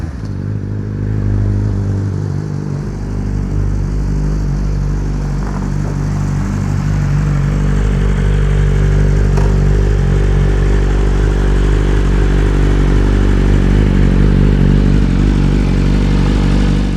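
A 2023 BMW S 1000 RR motorcycle engine runs steadily for the whole stretch, a loud, close, low rumble with faint clatter on top and no speech.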